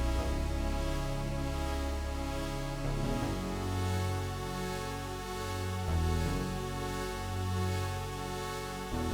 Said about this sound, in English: it's the Jupiter bass at the very top, and the bass pattern sounds like this.